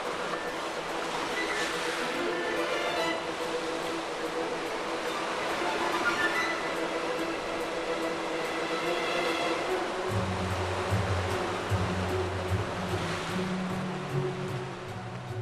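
Rough sea surf washes over shoreline rocks in a steady, loud roar of crashing and draining water, continuous throughout with no voices.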